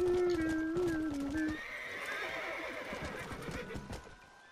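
A horse in the Red Dead Redemption western video game lets out a loud, close whinny that rises and then trails off, followed by a softer rumbling snort and hoof clatter.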